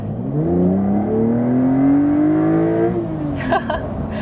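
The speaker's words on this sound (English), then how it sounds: "I'm gonna give you guys a nice little pull now that we are in sport mode." A Porsche 911 in sport mode accelerates hard from inside the cabin, its engine note climbing steadily for about three seconds before easing off, loud and close.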